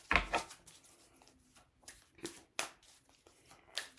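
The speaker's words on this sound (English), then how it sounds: "we'll just give this a couple more shuffles." Tarot cards are shuffled by hand at close range in quiet, with several short riffling bursts separated by soft pauses.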